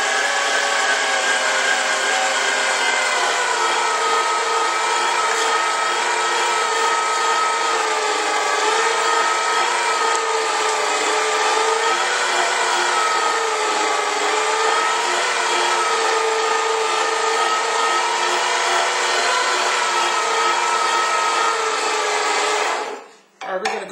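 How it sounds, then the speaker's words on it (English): Electric meat grinder run by a foot pedal, grinding pork for sausage: a steady, loud motor whine with a grinding rumble, running unbroken for the whole stretch and cutting off sharply at the very end. "Okay, we're ready to grind the meat."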